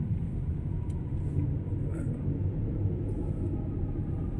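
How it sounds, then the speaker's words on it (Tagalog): Stalled heavy traffic on a city road, heard from inside a vehicle as a low, steady rumble of idling engines that stays constant and muffled, with a few faint clicks over it. "Grabe, traffic."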